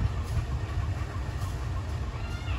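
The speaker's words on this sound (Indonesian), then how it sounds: "Tuh berangkat tuh keretanya tuh." Train locomotive pulling away from a station in South Sumatra, a steady loud rumble of engine and rolling wagons with faint rhythmic clatter throughout.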